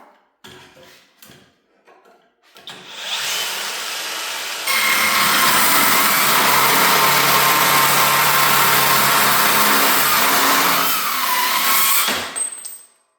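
A Fein power saw spins up and grinds loudly through thick steel for several seconds, a harsh steady roar close by, then winds down.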